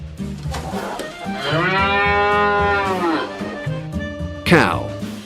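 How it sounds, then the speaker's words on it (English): A cow gives one long, loud, drawn-out moo over steady background music, with a sharper bright sound near the end; no one speaks. "Cow."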